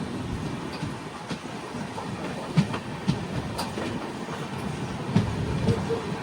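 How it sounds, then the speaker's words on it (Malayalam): Kerala Sampark Kranti Express running at about 110 past Karunagappally, heard from inside a coach: a steady rumbling roar with rhythmic clickety-clack wheel beats and occasional sharper knocks, continuous and close with no talk. "ട്രെയിൻ ഇപ്പോൾ കരുനാഗപ്പള്ളി കഴിഞ്ഞു. ഇപ്പം 110-ലാണ് പോയിക്കൊണ്ടിരിക്കുന്നത്."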